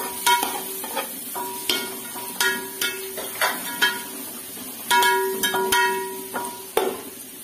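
Onions frying in a pan for chicken biryani, with a steady sizzle and repeated stirring and scraping knocks of a spoon against the pan, close and fairly loud with no voices.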